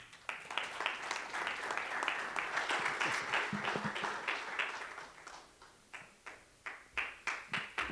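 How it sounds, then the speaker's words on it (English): Audience applause at a corporate water-efficient sanitation event: a sustained burst of many hands clapping that thins out into scattered individual claps toward the end. "Let's show out with our applaud here."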